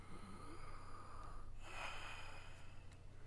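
A character in Red Dead Redemption 2 breathing for a doctor during a medical check: a single faint, soft breath with a slight snorting edge over a low, steady background hum.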